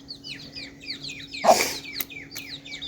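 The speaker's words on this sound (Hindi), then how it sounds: "तब तक मैं ना मुर्गियों को खुड्डे में बंद कर दूँ" Chickens cluck in a rapid, steady series close by, a short louder squawk breaking in midway, with a faint low hum running underneath and no one talking.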